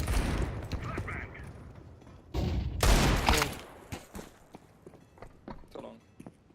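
A Counter-Strike 2 flashbang grenade goes off with a sharp, loud burst of noise lasting about a second, set among scattered game clicks, footsteps and other distant effects.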